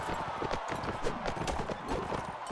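Horse hooves clatter during a chaotic battle in the video game Mount and Blade Warband, a fast, busy clip-clop of many hooves mixed into dense combat noise, with faint voices underneath.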